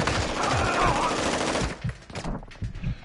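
Heavy enemy gunfire in a PS4 shooter game, a loud continuous burst of rapid automatic shots that breaks into scattered shorter bursts and single cracks, with no voices over it.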